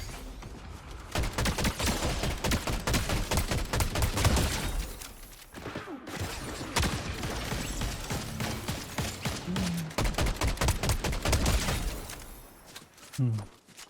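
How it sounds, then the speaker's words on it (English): Fortnite's pew pew guns fire in rapid, dense bursts for several seconds at a time, with short pauses between volleys, loud and close, and a voice speaks over part of it. "Oh, the pew pew guns."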